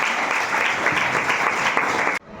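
Students at a higher secondary school clap for their teacher, producing a steady burst of applause that cuts off abruptly near the end.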